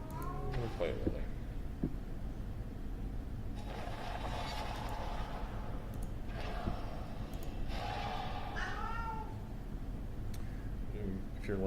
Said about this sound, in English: you can hear my cats in the background